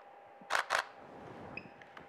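A camera shutter fires twice in quick succession with a flash set to HSS mode, giving two close, crisp mechanical clacks, followed by a faint electronic beep.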